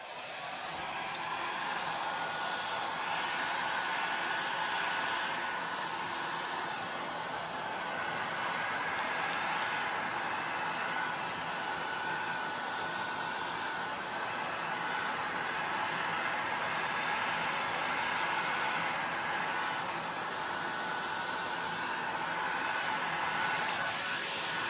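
Heat gun blowing over an epoxy resin ocean pour on a tray table top, a steady broadband rushing roar that stays constant and fairly close throughout with no break.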